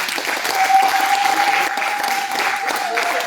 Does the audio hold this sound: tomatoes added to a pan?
no